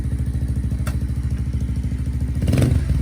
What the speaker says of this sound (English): You can try the electric start. Just push the button.